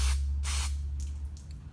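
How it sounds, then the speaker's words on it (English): Two sharp, close bursts of aerosol cleaner hiss into a Coolster ATV carburetor bowl, followed by fainter dripping and liquid sounds over a low engine-like hum. "spray out the bowl"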